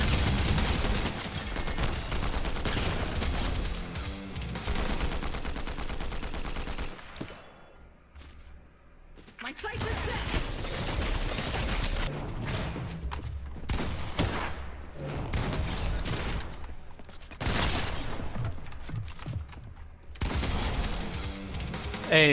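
Shotgun blasts from the video game Pit of Legends, dense and loud amid continuous game effects and music, with a brief lull near the middle before the firing resumes.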